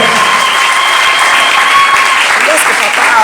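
A church congregation applauding in steady, loud, dense clapping that holds without a break from start to finish, with cheering voices mixed into the noise.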